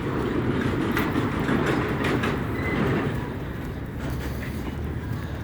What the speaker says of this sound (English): there's a little train.